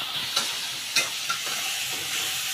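Pakoras fry in hot oil with a steady bright sizzle and hiss, broken by a few sharp spitting pops, close and with no talking.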